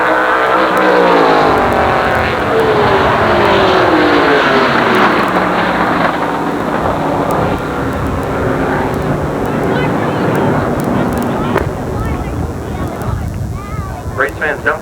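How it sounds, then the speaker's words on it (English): Super late model race cars roar around the Jennerstown Speedway oval, a loud sustained engine drone with pitch sweeping down as cars pass, continuing under a track announcer's commentary throughout. "Running right about 18 seconds flat is Clay Houston out there in his Bone Snow King number 1 as he comes around to take the checker."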